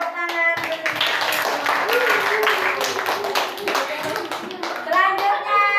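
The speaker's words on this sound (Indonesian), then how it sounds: "beri tepuk tangan" Children in a primary-school classroom clap together after a group presentation on AI ethics, a dense, sustained burst of hand claps filling the room, with children's voices calling out over it.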